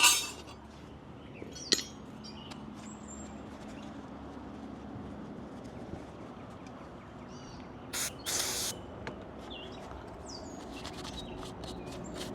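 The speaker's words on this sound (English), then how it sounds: "clean this one up also with brake cleaner" Brake cleaner sprayed onto front brake parts of a 2015-2023 Mustang GT, heard as a couple of short, fairly loud hissing bursts over a quiet garage background with faint clinks.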